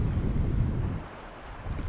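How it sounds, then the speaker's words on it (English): Wind gusting over a small boat anchored offshore near islands while fishing, a steady low rumble and buffeting against the microphone that eases in the middle of the short stretch before building again. "So yeah, a little windy, but it's okay."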